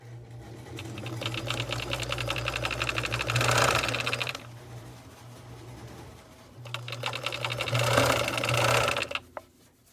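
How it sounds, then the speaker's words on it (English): A sewing machine stitching a second row along a Christmas stocking seam to encase the raw edge, running in two steady bursts of rapid mechanical stitching with a short slower pause between them, then stopping. "we'll do the second row of stitching and the raw edge will be encased"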